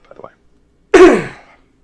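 A single sharp cough or throat clear bursts out close to the microphone after a brief moment of quiet, fading quickly.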